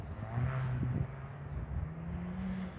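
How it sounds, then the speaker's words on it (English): A fast BMW car hums and whirs past at moderate distance, its tone rising then sliding lower as it goes by, fairly quiet overall. "Trust me, that car is super fast."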